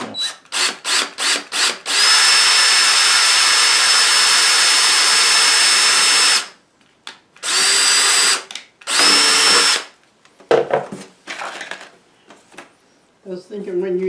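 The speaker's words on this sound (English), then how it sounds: "don't push on the drill" A power drill bores into a metal dryer vent exhaust pipe: several short bursts, then a long sustained whine, followed by more spurts, with people talking in between near the end.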